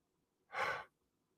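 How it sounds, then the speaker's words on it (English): A single soft, breathy yawn, lasting under half a second, rises and fades in a quiet room. "I shouldn't be yawning this much."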